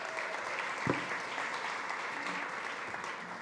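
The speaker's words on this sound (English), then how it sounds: "So give her another round of applause, please." An audience applauding a speaker at a food summit session, a steady, moderately distant patter of many hands that holds evenly throughout.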